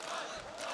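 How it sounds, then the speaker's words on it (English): Arena crowd at a CS:GO major final, Luminosity Gaming versus Natus Vincere on Mirage, roars as a steady broad wash of cheering, fairly faint and continuous throughout with no clear talk over it. "You can hear the crowd in the background as well."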